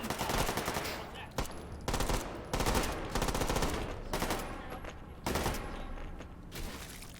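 Rapid automatic gunfire in the VR game H3VR rattles in long sustained bursts broken by brief pauses, loud and close throughout.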